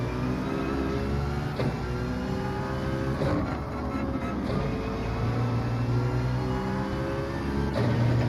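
A Citroen Gr.4 race car engine in Gran Turismo 7 drones steadily at a racing circuit, a sustained harmonic hum with slight pitch shifts as the car accelerates, without any voices.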